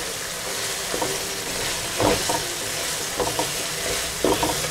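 Chopped green chillies, three or four, hit frying masala in a pan for kadhi pakoda, giving a steady close sizzle with a few brief stirring scrapes and louder spits spaced through it.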